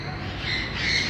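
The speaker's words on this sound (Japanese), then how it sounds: "花鳥園で見る文鳥です。" Java sparrows calling at a flower and bird garden, a bright squawking chirp that swells louder toward the end of a brief burst, close by with no talk.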